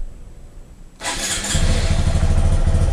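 A Honda Grom motorcycle with its exhaust cut off cold-starts in a garage: a moment of quiet, a sudden crank, then a loud, raw, burbling idle that swells and stays close.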